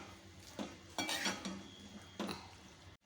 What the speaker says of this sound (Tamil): இந்த வெங்காயம் தக்காளியோடு அப்படியே மிக்ஸ் பண்ணி விட்டுக்கோங்க